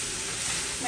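Ground meat for chili sizzles and hisses steadily in a hot pot as it is stirred, a faint, even frying sound with no talk.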